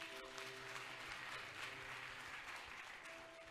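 A church congregation breaks into sustained applause to acclaim Jesus, a steady wash of many hands clapping that holds for several seconds and sounds somewhat distant and soft.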